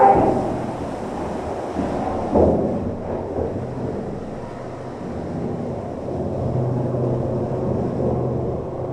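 Water rushing through a sand-clogged manure tanker hose during a clean-out, a steady broadband wash with a surge near the start, continuous and fairly close, with no talking.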